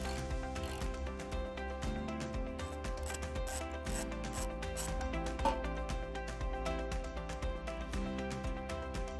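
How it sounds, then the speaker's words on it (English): Large ratchet working loose the 10 mm bumper beam bolts on a 2020 Lincoln Continental during a trailer hitch installation, a steady run of clicking, rubbing mechanical strokes close by with no talking. "So we're gonna do that with a large ratchet."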